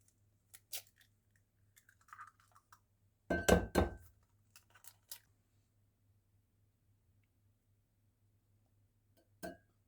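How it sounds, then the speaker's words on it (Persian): A few sharp taps and a cluster of cracking clicks against a hard bowl, then quiet with scattered small kitchen clinks over a faint hum. "خب تخم مرغ رو در ظرفی بشکنید"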